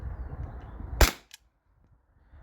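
Single sharp shot from a T4E HDP50 13 joule pistol, a loud snappy crack cutting through faint background hum, followed by a small click and then near silence.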